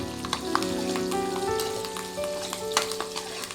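Onions and curry leaves fry in oil in a pan with a loud, close sizzle full of crackling pops, and a faint tonal hum runs underneath.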